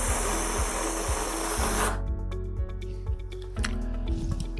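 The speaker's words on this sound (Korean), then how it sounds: "그리고 풍선에 바람을 빼보겠습니다." Air rushes out of a rubber balloon in a loud, continuous hiss for about two seconds, then stops abruptly and gives way to soft rubbery squeaks and rustling nearby.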